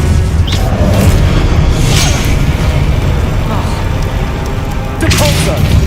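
A Levioso spell is cast in Hogwarts Legacy. Magical whooshes and crackling bursts sound over a dense, steady din of combat.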